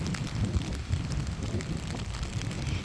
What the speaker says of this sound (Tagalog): Uy, sobrang mahangin.